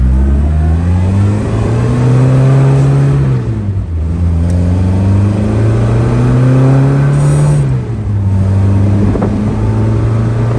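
A 1967 MG Midget on a test drive, its engine droning steadily with two clear rises in pitch as it accelerates through the gears, each followed by a drop at the shift, loud and close throughout with no talk.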